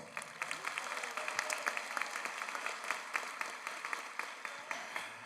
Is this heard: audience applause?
yes